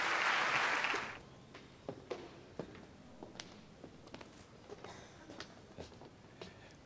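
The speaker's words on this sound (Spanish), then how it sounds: "Con un fuerte aplauso, ahora sí, recibimos al presidente de CONAPROLE, el ingeniero agrónomo Álvaro Ambrois." Audience applause at an 80th anniversary gala in a theater, a burst of crowd clapping that fades within the first second, followed by scattered footsteps and rustling.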